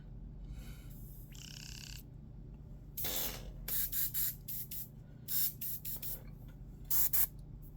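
An airbrush sprays paint while a demon skull is being painted, the tip drying as the trigger is pulled back further, giving short hissing bursts of airflow, one longer then several quick puffs, close and fairly quiet with no talking.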